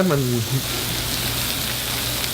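Shrimp fry in olive oil with chorizo and a squeeze of lemon juice, giving a steady, close sizzle that runs unbroken under a brief tonal sound at the start.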